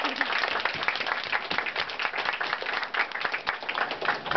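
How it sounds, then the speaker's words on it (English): An audience at a voice acting workshop claps and applauds steadily, a dense even patter of many hands filling the room throughout. "Give her a hand."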